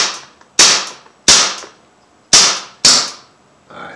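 Four sharp, loud shots from an Umarex Mauser C96 M712 full-auto .177 BB pistol, spaced unevenly about a second apart, each a crisp crack with a quick decay, followed by a faint rattle at the end.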